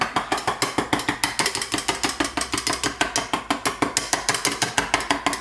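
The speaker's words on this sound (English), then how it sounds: "while you're putting this in, you want to keep whisking it" A whisk clicks rapidly and steadily against a bowl as olive oil is worked into a mixture for chicken wraps, a fast even rattle with no talking.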